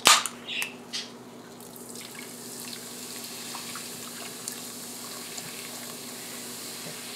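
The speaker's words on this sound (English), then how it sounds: "And we'll add about half a can of our soda." Soda pours from a can onto meat, starting with a sharp splash and can noises, then fading to a quiet, steady fizz and trickle nearby.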